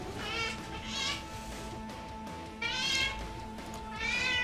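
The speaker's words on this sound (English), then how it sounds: "Cat." A cat meows repeatedly in a game of Europa Universalis IV, with clear harmonic cries rising and falling over a steady background tone, loud and close with no talk.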